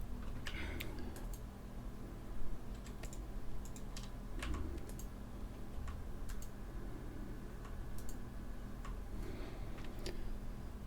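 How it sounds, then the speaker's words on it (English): Computer keyboard keys tapped in short irregular bursts of clicks, fairly quiet and close, with a low steady hum underneath and faint talk at times. "you need 2 hands to press Control Delete"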